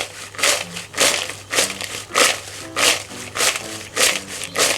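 Crispy French fries crunch loudly as they are tossed with seasoning salt, a steady series of about eight sharp, dry crackling bursts roughly every half second, close up with no talk.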